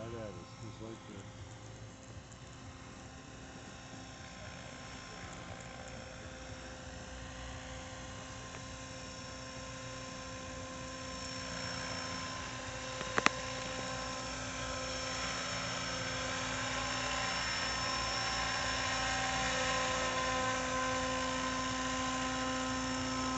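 Trex 600 Jet Ranger RC helicopter coming in to land, a continuous high-pitched motor and rotor whine that holds steady and grows slightly louder, with one brief knock partway through.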